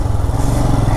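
Royal Enfield Himalayan motorcycle engine running on a steep mountain road near Manali, a loud, steady low drone filling the whole moment without a break.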